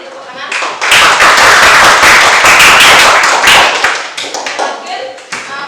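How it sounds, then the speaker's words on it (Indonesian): A classroom group bursts into applause, many hands clapping together loudly and close by for several seconds before thinning out into scattered claps. "Oke, tepuk tangan."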